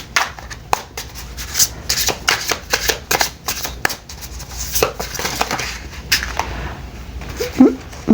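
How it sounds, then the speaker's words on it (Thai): Tarot cards being shuffled by hand, a steady run of dense riffling and slapping card sounds up close, continuing without a break and with no talking over it. "มาค่ะเดี๋ยวเรามาดูกันว่าจะได้ไพ่อะไรบ้างเนาะ"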